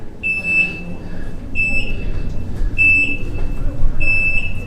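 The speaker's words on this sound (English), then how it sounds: "you can hear the beep. It's kind of a warning" A loud electronic warning beep inside Belém Tower in Lisbon repeats four times at an even pace, each a sharp high tone over a low rumbling background.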